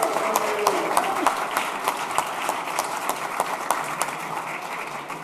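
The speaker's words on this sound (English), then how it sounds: "another round of applause for Ken and Dorothy for your music" Steady applause from a church congregation for the musicians at a Sunday service, a dense crowd of hand claps that holds for a few seconds and then slowly tapers off.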